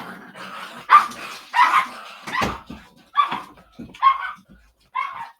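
A dog barking in a home office, a series of about seven sharp, fairly close barks spaced irregularly with short pauses between them.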